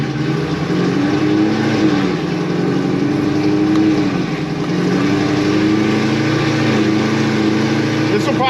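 A Stage 4 ZL1 pickup engine runs loud and close on a dyno, a heavy sustained drone whose pitch wavers up and down through the pull.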